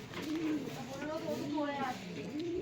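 A restless pigeon held in the hand gives several rolling coos in quick succession, close and fairly soft over steady background noise.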